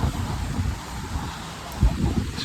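Low, rumbling wind with rain buffets the microphone in uneven gusts near the Manhattan Bridge, with a brief thump near the end and no voices.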